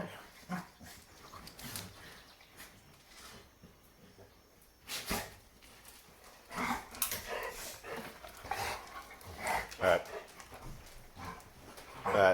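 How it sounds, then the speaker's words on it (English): A crowd of dogs waiting for a bath barks, yips and whimpers in scattered, overlapping bursts, some close and loud, with a person talking among them. "There's a lot of dogs here, folks. There's a lot of dogs. It is a sea of dogs."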